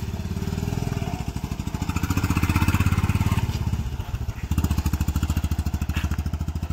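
A motorcycle engine idles close by in a rainy mountain village, a steady, rapid low thumping that swells slightly and dips briefly before settling back into an even rhythm, with no talking.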